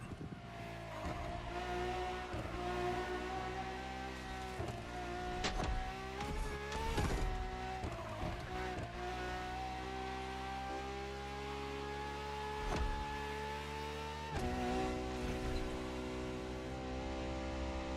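A Ferrari V12 hybrid, the strongest naturally aspirated Ferrari V12, drives in The Crew Motorfest racing game, its engine holding a steady loud drone with rising and falling pitch as it revs and shifts, alone without talk.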